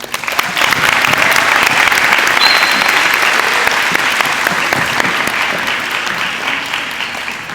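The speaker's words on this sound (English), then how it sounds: "please give her a round of applause." A large audience at a high school ceremony claps steadily and loudly for several seconds, a dense continuous wash of applause that tapers off only slightly near the end.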